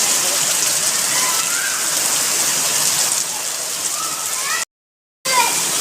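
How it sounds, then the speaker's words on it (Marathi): Heavy rain pours down steadily in a dense, loud hiss, with faint distant voices underneath and a short silent gap near the end. "हा लय पडतोय पाऊस"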